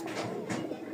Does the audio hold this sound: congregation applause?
no